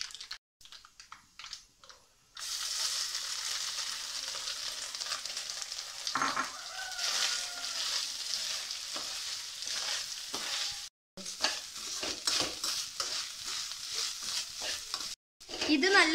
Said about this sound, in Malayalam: കടുക് പൊട്ടാൻ തുടങ്ങിയിട്ടുണ്ട്. ഇനി നമുക്ക് തേങ്ങ ചേർക്കാം.